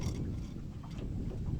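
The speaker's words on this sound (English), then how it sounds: "the wind is blowing pretty hard" Hard wind blowing outdoors on open water during a catfish scouting trip, a steady low roaring rumble buffeting the microphone with no talk.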